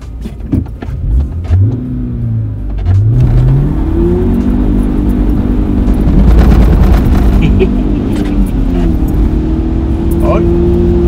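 A car treated with Liqui Moly CeraTec and Speed Tec additives launches hard from a standstill, engine revving up through rising harmonics into a loud sustained roar with wheelspin, while someone talks inside the cabin.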